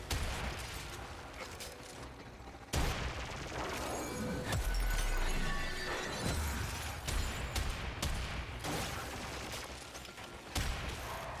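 Gunfire against a boss in the video game Warframe: rapid bursts of shots and impacts mixed with booms and clattering effects, loud and busy, with brief pauses between volleys.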